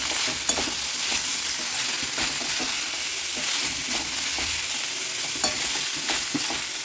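Masala with potato and capsicum fries in oil, a steady loud sizzle broken by repeated scraping of a spoon stirring the pan.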